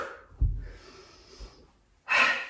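A person doing a yoga HIIT workout gives forceful noisy exhales, one breathy burst early and a stronger, sharper one near the end, close and alone with quieter breathing between.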